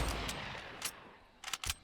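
Gunshots ring out in the Fortnite video game, a few sharp cracks scattered over under two seconds, with a quick pair near the end and a fading noisy tail, moderately loud and fairly close, with no voices.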